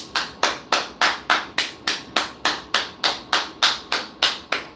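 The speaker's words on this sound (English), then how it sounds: "I gotta clap more for that one" A pair of hands claps steadily close by, about fifteen sharp even claps in a regular rhythm, alone with no talking.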